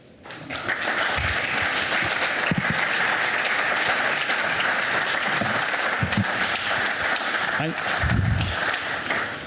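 Sustained applause from a large audience, steady and loud for several seconds with a few voices and cheers rising through it.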